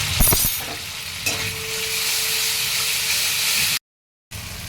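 A masala of tomato puree and chili powder sautés in a pan with a steady, moderately loud sizzle after a brief opening clatter, then cuts to a short silence before resuming.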